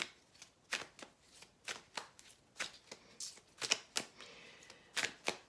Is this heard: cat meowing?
no